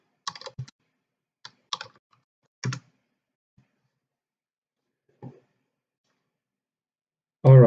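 Sparse computer keyboard typing in a quiet room: a few quick clusters of key clicks followed by isolated taps, then a single louder knock at the end, with no talking.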